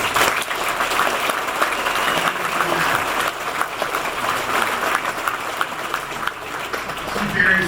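Steady applause from a crowd at an Alberta separatist rally in Edmonton, continuous clapping that holds at an even, fairly loud level throughout.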